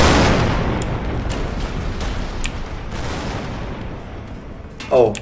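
Tank cannon fire in a large battle in Total Tank Simulator, a heavy boom at the start decaying into a rolling rumble of distant shots, with a sharper blast near the end.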